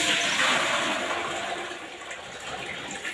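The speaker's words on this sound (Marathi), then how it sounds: "ही आता आहे ना मी पाणी ओतते याच्यामध्ये" Water poured into a metal pot set on a wood-fired mud stove, a steady gushing splash that fills the short stretch at close range, gradually easing in loudness.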